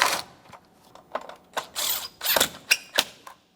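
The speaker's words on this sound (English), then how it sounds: "When you go to snug these mounting nuts, you only want to make them tight enough the battery cannot move around." A hand ratchet snugs the battery mounting nuts on a 2014-2018 Mazda 3, giving several short bursts of close, crisp clicking separated by brief pauses, with no talk.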